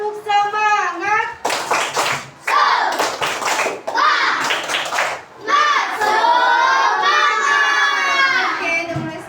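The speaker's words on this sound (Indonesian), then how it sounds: "tepuk semangat." Children clap a quick rhythmic spirit clap in a classroom, broken by bursts of shouting and chanting voices, loud and close.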